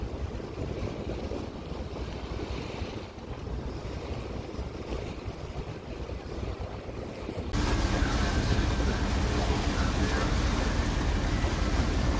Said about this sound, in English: We have two ships coming up behind us.